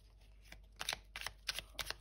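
Tarot cards being shuffled by hand in a few short, crisp riffling bursts, quiet and close, with no talking.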